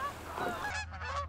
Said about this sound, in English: Oh, more geese coming, more geese coming. There's more geese.